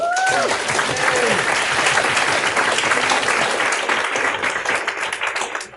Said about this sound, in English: let's give a hand for Jean